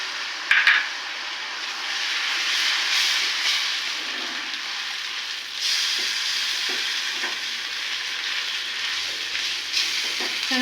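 Steady close sizzling and bubbling of onion paste frying in oil that was used for frying roast, with occasional stirring scrapes over a continuous hiss.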